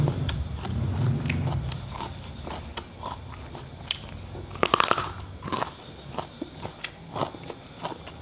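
Raw carrot, washed, crunched and chewed close up in a series of sharp, crisp bites with quieter chewing between them, alone with no talking.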